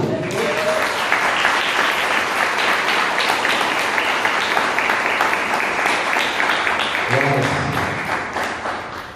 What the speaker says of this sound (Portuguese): Vamos aplaudir a Deus pela vida do Vaz aí